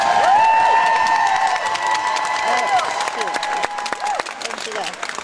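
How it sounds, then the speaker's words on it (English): A large crowd in a Mary Kay conference auditorium claps and cheers as people stand, the applause full and sustained at first, then thinning slightly toward the end, with a voice heard over the noise. "please stand for a round of applause"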